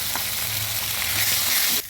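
Chopped onion, ginger paste and onion paste fry with spices in a pan, giving a loud, even, close sizzle that stops abruptly at the end.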